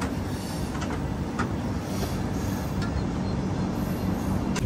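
An AC double decker express train runs steadily on its route, a continuous loud rumble of wheels on rail with faint clicking and occasional light squeals, heard from inside the carriage.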